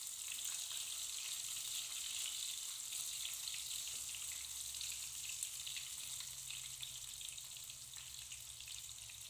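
Raw banana chips sizzle and crackle in hot oil, a steady, dense frying hiss that continues without a break and with no voices.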